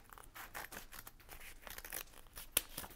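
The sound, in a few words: scissors cutting a paper plan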